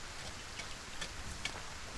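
Rain falling in the video game Solarpunk, a soft, steady hiss of rainfall with faint scattered drop ticks, fairly quiet and without talk.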